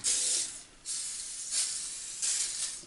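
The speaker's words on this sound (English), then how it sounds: "spray WD" WD-40 sprays onto a part of an old APEX 10 inch rotary table in three short hissing bursts with gaps between them, close and fairly quiet, no voices.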